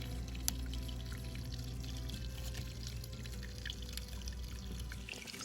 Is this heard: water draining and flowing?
yes